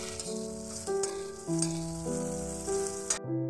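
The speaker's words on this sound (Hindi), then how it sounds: "अदरक और मिर्च को 1/2 मिनट तक भून लेना है।" Ginger and green chili fry in a pan with a soft, even sizzle beneath prominent background music, ending abruptly.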